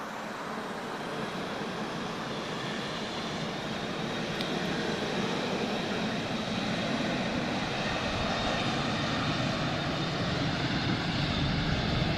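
A KLM Boeing 737-800 bound for Amsterdam at Lisbon Airport gives off a continuous broad jet engine roar, steady and moderately distant, with no voices over it.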